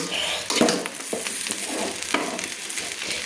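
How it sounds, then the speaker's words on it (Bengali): Tomatoes being stirred in a pot for a winter-vegetable khichuri, with a steady close sizzle of frying and a few scraping spoon strokes, no talking. "এই পর্যায়ে আমি টমেটোগুলো দিয়ে আমি একটু নেড়ে নিচ্ছি"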